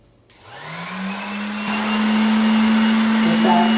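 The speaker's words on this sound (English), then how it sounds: "Finish sander." A cordless finish sander switches on and spins up, its motor whine rising quickly to a steady, loud hum that holds with no talking over it.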